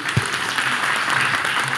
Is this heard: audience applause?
yes